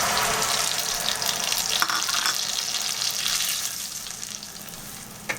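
Spices being fried in a pan with roasted cumin seed and butter, a steady close sizzle and crackle that eases slightly toward the end, with a small clink near the finish.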